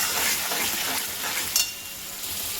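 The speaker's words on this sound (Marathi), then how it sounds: "कांद्याला गुलाबी कलर येईपर्यंत परतून देऊ" Chopped onion frying in oil in a home kitchen, stirred until pink, making a steady close crackling sizzle that continues throughout, with a brief clatter partway and no talking.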